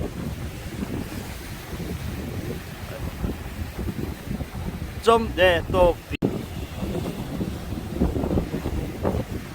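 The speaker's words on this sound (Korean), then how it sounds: "바람의 강도가 시, 심해졌습니다" Strong typhoon wind in Sokcho, South Korea, buffets the microphone in a constant rough roar with rain, a brief burst of voice partway through and an abrupt dropout near the middle as the camera shuts off.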